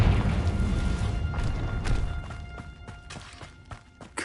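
A Confringo fire spell from Hogwarts Legacy bursts with a muffled boom that rumbles and fades, followed by a few scattered thuds and debris impacts.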